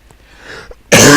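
A single loud, close cough bursts out sharply after a stretch of faint room noise and carries on to the end.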